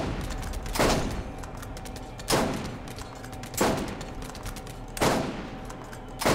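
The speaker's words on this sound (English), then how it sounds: "I still can't believe they're actually hitting me from that distance with a Gatling turret." Gatling turret firing in the video game Borderlands, heard at a distance as a steady crackle of rapid gunfire with periodic louder blasts about every second and a half, no talking over it.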